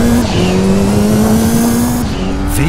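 Rally car from the 1999 video game V-Rally 2, its engine droning loud and steady with a shifting pitch and a brief tire squeal, with no talk over it.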